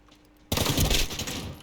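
Shotgun fire in a shooting video game: a sudden loud blast erupts after half a second of quiet, then a dense, noisy burst of gunfire and echoes that keeps ringing until the end.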